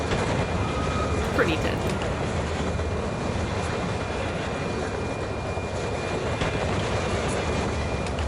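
A train rumbles past steadily in a video game map, a continuous loud mechanical roar that holds for several seconds while a person talks briefly over it.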